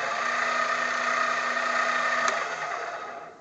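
A reversible mini lathe with exposed change gears, rated up to 2900 RPM, runs under power in a cluttered home shop, giving a steady close motor hum and whine that holds evenly and eases off slightly at the end.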